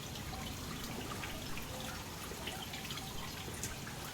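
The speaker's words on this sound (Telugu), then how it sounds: "నీళ్ళు చూసినారా కారుతుంది" Water drips faintly in the eerie, quiet environment of the horror game SOMA, soft droplets sounding over a low, steady background hiss.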